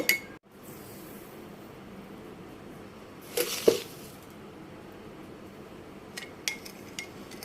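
A spoon stirring malta orange juice with sugar, giving a few faint clinks against the glass, with a brighter knock near the middle and light taps toward the end, all quiet and close.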